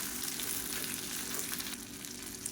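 Onions and garlic sautéing in a pan, a steady, moderately loud sizzle with a soft low hum of a stove underneath, close and uninterrupted.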